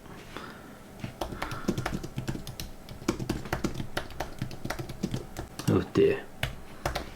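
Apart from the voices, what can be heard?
typing on a computer keyboard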